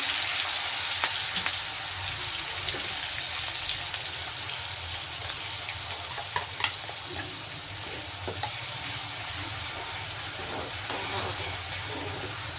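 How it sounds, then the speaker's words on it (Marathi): Green chilies fry in hot oil for a Marathi dill and moong dal dish, giving a steady, close sizzle with crackling pops throughout and no talking. "मिरची पण मी छान भाजून घेणार तेलामध्ये"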